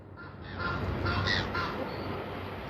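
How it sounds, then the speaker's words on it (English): Harsh seagull calls squawk repeatedly in the distance over a constant outdoor wash of noise by the water. "the seagulls going like crazy"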